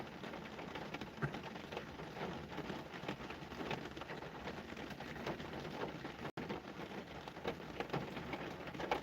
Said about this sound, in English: Can y'all like go to sleep to the sound of rain?